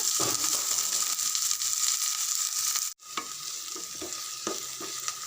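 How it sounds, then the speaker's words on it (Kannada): Onions and green chillies sizzle steadily in a hot pan, a loud continuous hiss with light stirring clicks and a brief break midway. "ಈರುಳ್ಳಿಯನ್ನು ನೋಡಿ ಚೆನ್ನಾಗಿ ಫ್ರೈ ಮಾಡ್ಕೊಳ್ಳೋಣ."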